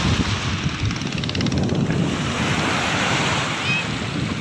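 Ocean surf at Sinutuk beach, with murky water on an overcast day, a steady loud wash of waves mixed with strong wind buffeting the microphone.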